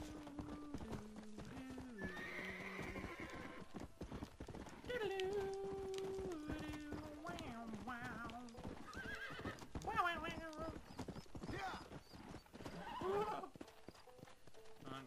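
Horse whinnying and hooves clip-clopping in Red Dead Redemption, with repeated loud neighs and a steady galloping rhythm running under the rider's frequent talk.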